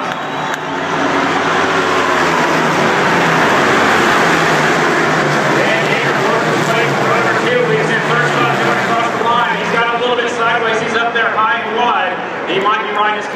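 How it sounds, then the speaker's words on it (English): Ducati flat track motorcycles race on the Indy Mile, a loud engine roar that swells and holds with crowd noise behind, while an announcer talks over it. "Johnson on the Ducati."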